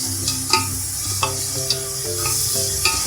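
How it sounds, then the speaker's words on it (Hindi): Mutton pieces frying with spices in a pot for pulao, a loud, close, continuous sizzle with occasional ladle knocks and scrapes as it is stirred. "अब इसको भी हम 1 से 2 मिनट तक फ्राई करेंगे"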